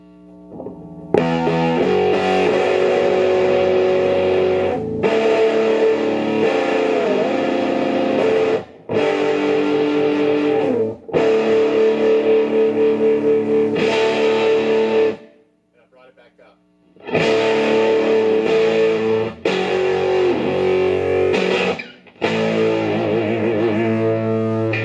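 Thick, distorted Fender Stratocaster played loud through a 1966 Fender Deluxe tube amp with the tone rolled off, a dark, muffled sound, strummed chords ringing in bursts with a brief pause midway.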